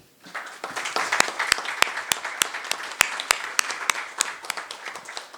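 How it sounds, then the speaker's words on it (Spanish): Audience clapping at a lecture session on civil and family law. Individual claps stand out sharply in a lively, moderately dense round of applause that holds steady after a quick start. "le pido por favor un caluroso aplauso"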